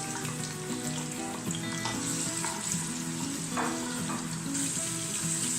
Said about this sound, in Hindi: अब इसके अंदर प्याज डाल के हल्का ब्राउन होने देंगे।